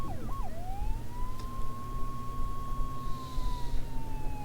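A police siren in the video game Flashing Lights wails continuously, starting with a quick whoop and settling into a long rising-and-falling tone over a steady engine rumble.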